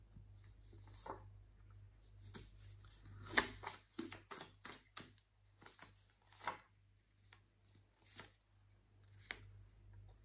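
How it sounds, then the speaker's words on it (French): Tarot cards are shuffled and drawn by hand, giving a run of soft, quick papery flicks and slaps in irregular bursts, close and fairly quiet over a low steady hum. "je vais tirer plusieurs cartes"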